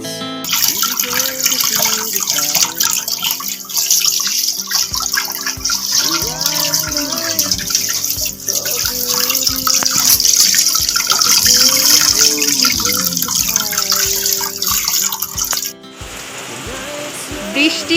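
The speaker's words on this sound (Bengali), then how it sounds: "হঠাৎ করে ঝমঝমিয়ে বৃষ্টি" Sudden heavy rain pouring down, a loud continuous rush of water close by, with a voice and other sounds over it before it drops off near the end.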